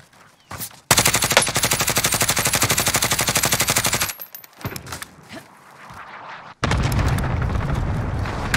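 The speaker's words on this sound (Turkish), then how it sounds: "Sağdaki çatıdan sıkıyor." Gunfire in Warzone sounds from a rooftop: a long sustained automatic burst of loud rapid shots, brief pauses with scattered clinks and thuds, then another dense burst of fire near the end.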